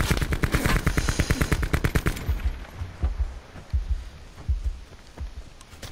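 Rapid automatic gunfire in the Call of Duty Blackout video game, loud and close for about two seconds, then fading into scattered, more distant shots and rumbling game ambience.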